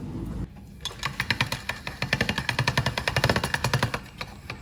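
Dough fed through a pasta roller machine on its first setting, number 1, with flour dusted on it: a rapid, rattling train of mechanical clicks and thumps from the rollers that grows louder, starting after a brief pause.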